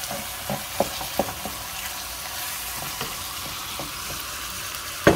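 Chicken pieces frying in a pan with a salty sauce for Chinese noodles, giving a steady sizzle, with a few soft stirring knocks and a sharper clatter at the end.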